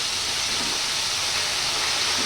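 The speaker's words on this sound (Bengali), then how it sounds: "কফিগুলো একটু ভেজে নেব" A steady, loud hiss of cauliflower pieces frying in hot oil in a pan, with an unbroken crackling texture and no voices.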